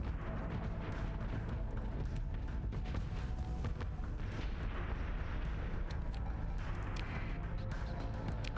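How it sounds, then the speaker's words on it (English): Random bombs detonate through space in the Starsector space combat game, a continuous, heavy rumble of deep booms and crashes rolling on without pause at steady loudness. "There's just random bombs flying throughout space."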